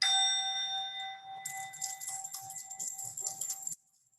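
A bell is struck during an oracle session, a bright ringing tone that fades, then a rapid run of clear metallic dings that stops abruptly.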